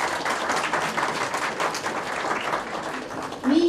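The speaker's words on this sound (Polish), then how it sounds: "brawa, brawa, tak" Applause from the audience at a regional Miss Polonia beauty pageant, a steady wash of clapping that thins near the end as a voice comes in briefly.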